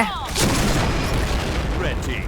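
A player's own grenade explodes in the shooter game Point Blank, a loud boom followed by a rumbling burst amid chaotic in-game noise.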